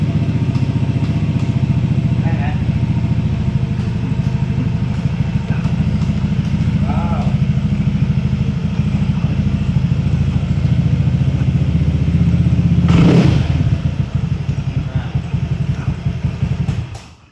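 A Honda PCX scooter engine idles with a steady low rumble close by, briefly revving up before settling and trailing off at the end.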